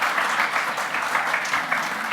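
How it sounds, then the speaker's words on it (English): Brief burst of audience applause at a conference panel on Māori perspectives in foreign policy, a dense, even patter of many hands clapping at once, moderately loud and close. "please a huge round of applause"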